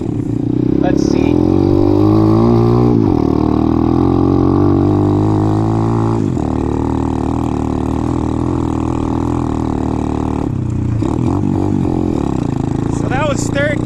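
An Apollo RFZ 125, a small 125cc four-stroke motorcycle, revs hard and climbs through the gears up to third, engine pitch rising steadily with brief drops at each shift, loud and close throughout.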